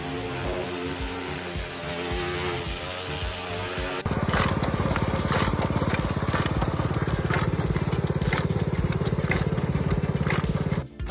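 A high-speed, cam-driven chain-making machine bends, cuts and shapes wire into interlocking links, with a loud, rapid, steady mechanical clatter of repeated metallic ticks over a buzzing drive, close by and continuous.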